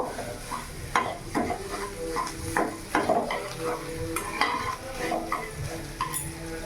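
Potato stir-fries in a kadai (wok) with a soft sizzle, as a spatula scrapes and knocks against the metal in irregular strokes close by.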